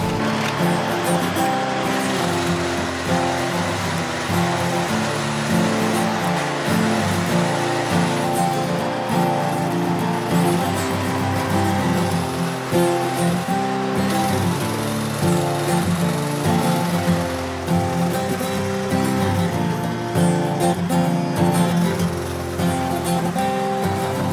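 A Paoloni Venus machine scarifying a Har-Tru clay tennis court, giving a loud, steady engine drone with a rough mechanical churn that runs unbroken and close throughout, with no talking.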